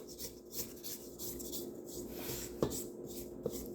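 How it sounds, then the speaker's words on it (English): A spatula scraping the sides of a mixing bowl of oatmeal cream pie batter with melted marshmallows, soft steady rasping with a couple of sharper taps, quiet and close. "Scrape off the sides."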